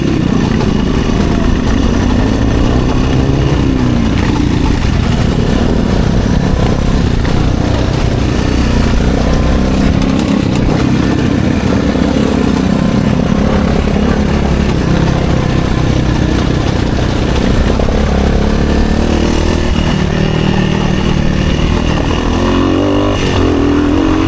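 Motorcycle engine droning loud and steady on a first off-road stretch, its tone rising and falling with throttle as tyres roll over rough ground, continuous and close with no talk.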